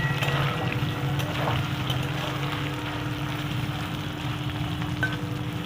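Boiled soybean chunks fry in 3-4 spoons of hot mustard oil, giving a steady, close sizzle that runs without a break and carries faint crackles.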